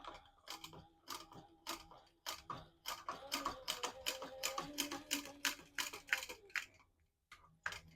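A sewing machine stitches through thick layers of black leather for a zippered pouch, quick rhythmic mechanical ticking in bursts with short pauses between runs, close and fairly quiet.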